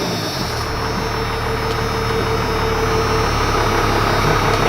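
An old, heavily rusted plow truck's engine runs close by, a loud steady rumbling idle with constant low drone and no break in the sound.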